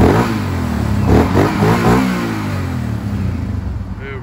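A 2018 Kawasaki Brute Force 750 4x4i ATV engine revs up and down in a few close, loud swells, then settles to a rough idle, with someone talking over it.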